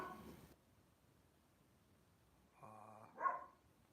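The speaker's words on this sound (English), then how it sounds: "That's my dog." A dog lets out a quick, faint bark or two near the end, after a brief noise at the start and a stretch of near silence.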